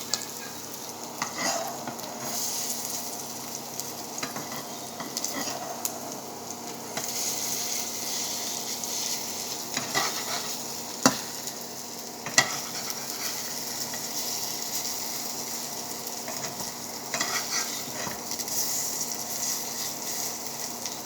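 Potato chops (aloor chop) frying in a little oil, a steady soft sizzle throughout with occasional spatula scrapes and stirring clinks close by, no talking.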